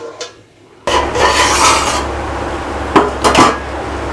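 A lid is set down on a pot of simmering fish curry with a sudden metallic clank, followed by a sustained scraping rattle and two brief clinks of metal on metal near the end, all close and loud.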